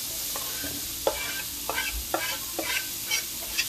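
Onions sizzle and fry in a hot pan in a vegan cooking demonstration, a steady hiss broken by a few soft stirring scrapes and clinks, close and with no talking.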